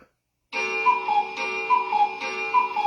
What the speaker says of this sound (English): The Dustin Lewit Show is filmed in front of a live cuckoo clock.